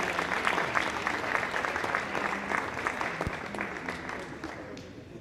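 An audience at a boccia national titles medal ceremony gives a round of applause, a crowd's steady clapping at moderate level that gradually fades toward the end.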